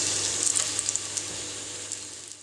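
Floured rabbit fries in smoking corn oil in a cast iron Dutch oven, a steady close hiss broken by sharp little pops and splatters.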